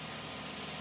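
An engine running on a repair bench during an oil seal replacement for an oil leak, a steady close idling drone with continuous vibration.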